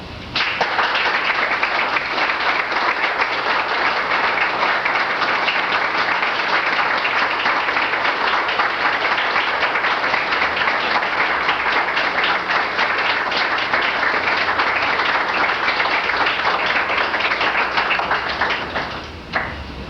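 At a 1992 Citizens for Proportional Representation gathering, an indoor audience gives long, dense, sustained applause for the introduced speaker. The clapping stays steady for nearly twenty seconds before tapering off at the end.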